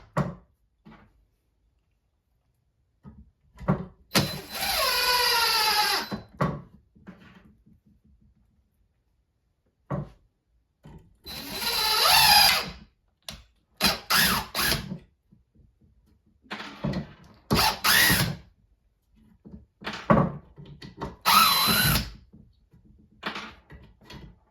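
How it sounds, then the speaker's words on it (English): Bursts of a Porter-Cable 20V cordless impact driver whirring and hammering, several separate runs of varying length with quiet gaps between, close up. "It always does the impact whenever,"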